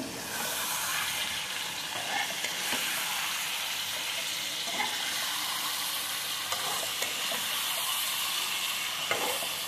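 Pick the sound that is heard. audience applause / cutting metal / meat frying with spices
meat frying with spices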